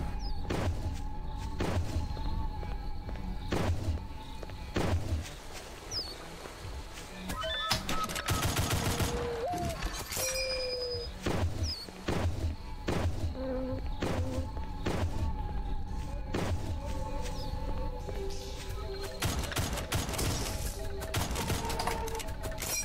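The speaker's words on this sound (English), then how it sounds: "Is that friendly fire?" Rapid bursts of gunfire echo through a Mohrta shooter match, a friendly-fire volley of dense, repeated shots and thuds running steadily for over twenty seconds under a busy game soundtrack.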